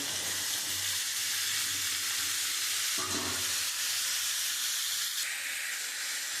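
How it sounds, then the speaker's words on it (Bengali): Chopped mixed vegetables fry in a hot pan for a vegetarian curry, giving a steady loud sizzle and hiss with faint stirring scrapes throughout and no voices. "আমি একটুখানি লাল লাল করে একটু ভেজে নেব।"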